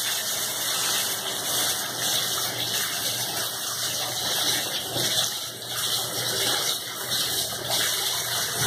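Hot water runs from a tap onto a spin cleaner brush attachment for scrubbing a shower, a steady close splashing gush with a faint high whine over it.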